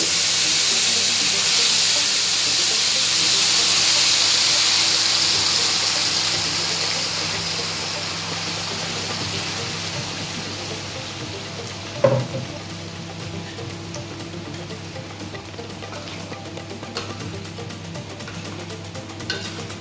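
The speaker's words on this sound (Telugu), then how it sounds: "ఈ మసాలా కాస్త ఫ్రై చేసుకోవాలి మనము" Ground masala paste frying in hot oil for chicken changezi, a loud, steady sizzle that slowly eases off, broken by one sharp clink midway.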